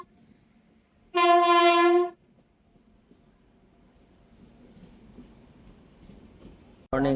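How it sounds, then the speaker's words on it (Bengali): A train arriving at a Rajasthan railway station sounds one loud, sustained horn blast lasting about a second. A low rumble of rolling wagons then builds gradually, and a second horn cuts in at the very end. "গাইজ ফাইনালি ট্রেন চলে এসছে।"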